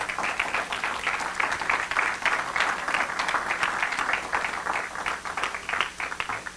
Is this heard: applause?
yes